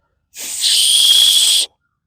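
A small survival-kit whistle is blown once, giving a single shrill, breathy tone that holds for just over a second, close and loud, then cuts off into silence.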